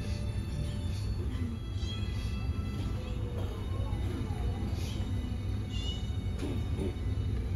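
Newborn kittens meow in a Star Trek TNG sickbay scene from the episode Genesis, thin faint mewing cries rising now and then over a dense, steady wash of background noise.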